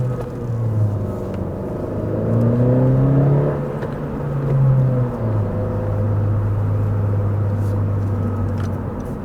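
Engine of a 2017-2020 Honda Civic Si Coupe pulling through the gears on a drive, a steady low rumble that rises in pitch in sweeping runs, drops at shifts, then settles into a sustained drone.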